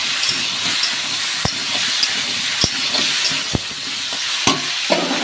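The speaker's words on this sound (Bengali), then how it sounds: "দিয়ে এটা আমি ভালো করে কষিয়ে নেব" Pumpkin, potato and pointed gourd sauté in a pan with turmeric and a little sugar for a vegetarian curry, giving a steady, close sizzle and hiss. A spoon clicks sharply against the pan every second or so.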